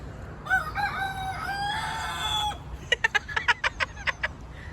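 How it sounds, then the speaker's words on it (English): A rooster crows a long, wavering call near a village creek, followed by a quick series of sharp clucks from chickens, both fairly close over a quiet background. "Like what, 30 roosters and chickens down here at one point?"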